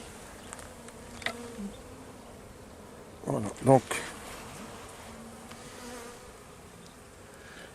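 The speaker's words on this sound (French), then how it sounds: "Et là, on voit les abeilles" Honey bees buzz faintly and steadily around a weak hive, with brief spoken French and a few louder handling noises partway through.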